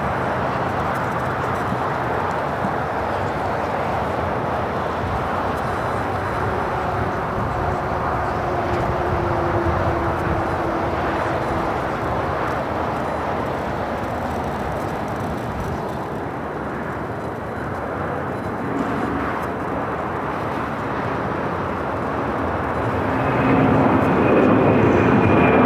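A United Airlines Boeing 787-9 Dreamliner bound for Hong Kong moves at LAX with a broad, steady jet-engine roar that fills the scene, swelling slightly near the end.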